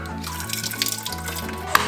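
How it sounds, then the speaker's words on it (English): Water draining out of an opened can of water chestnuts, a steady close pouring and splashing stream that runs throughout with a few small drips and clinks near the end. "What we're gonna do is just drain off this water."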